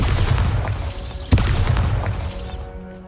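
The Bombarda blasting spell detonates in the video game Hogwarts Legacy: a single loud, sharp boom rises out of a dense rumbling, crackling din, then fades away.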